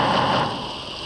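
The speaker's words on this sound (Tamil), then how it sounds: "டேய் மழையை நிப்பாட்டுங்கடா." Rain pours over a campsite as a dense, loud wash of pattering drops, steady through a short burst with no voices.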